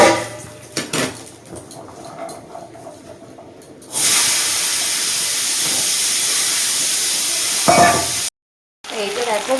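Panch phoron, dry chillies, bay leaf and onion frying in hot oil, first quiet clinks of utensils, then a sudden loud continuous sizzle that holds for several seconds before a brief cut and a return of softer frying.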